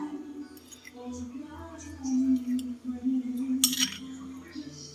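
A utensil stirs a corn snack in a pot, giving light metallic clinks and scraping, with a brighter clink near the end under a steady low hum and some quiet talk.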